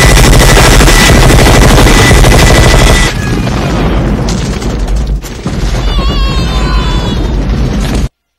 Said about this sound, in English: shooting in all directions